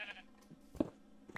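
A sheep in the video game Minecraft gives a single short bleat, quiet and somewhat distant, against soft background sound.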